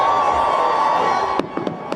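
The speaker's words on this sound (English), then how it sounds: "a New Year's Eve celebration wouldn't be complete without fireworks" A New Year's Eve fireworks show draws a crowd: a dense roar of crowd noise and crackling, followed by several sharp, distant bangs in quick succession near the end.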